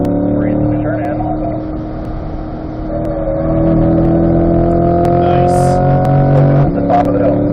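Chevy C8 Corvette accelerating at full throttle on the track at Spring Mountain, a steady rising engine drone that holds loud and close from start to finish.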